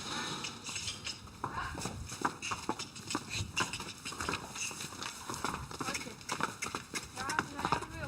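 Friesian mares and foals moving together in a pasture at a stable, their hooves thudding in a busy, uneven clatter throughout, while a voice narrates over them.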